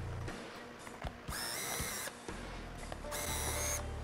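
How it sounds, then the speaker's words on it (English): A power drill bores small holes into plywood, with two bursts of high whining drilling separated by short gaps, near and clear, alongside quieter motor hum and mechanical clicks. "let's drill a couple of holes into this plywood."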